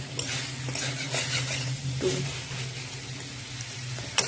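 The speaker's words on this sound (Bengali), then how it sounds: "তো এবারে এগুলোকেও ভালোভাবে একটু কষিয়ে নেবো" Vegetables stir-fried in a pan, with a steady low sizzle and scraping stirs of a utensil against the metal, a few light clinks along the way, heard up close throughout.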